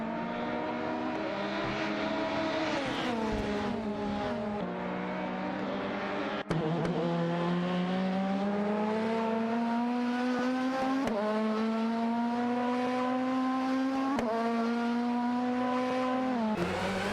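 Race cars in a video game race with engines whining at high pitch, revs rising and falling through gear changes over a continuous roar, with occasional abrupt shifts as the sound cuts between cars.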